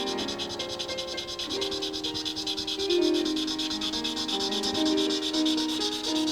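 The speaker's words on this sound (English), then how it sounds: "the rest of this I'll wet sand out with 1000 grit" Steady wet rubbing of 1000 grit sandpaper over painted panel near a clear-coat edge, a continuous close scrubbing texture with a slight surge midway, no talking.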